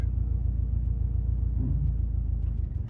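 Subaru STI with a manual gearbox pulling away slowly as the clutch is eased out, a steady low engine rumble heard from inside the car with no talking.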